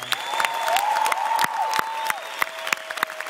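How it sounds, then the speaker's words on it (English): Scattered applause from a comedy show audience, sparse individual claps with a sustained tonal whistle-like sound running through the middle. "how about a round of applause for Arab moms"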